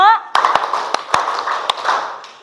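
Classroom of tenth-grade students clapping a counted pattern, a few sharp separate claps spaced irregularly under overlapping voices, closing in a ragged cluster.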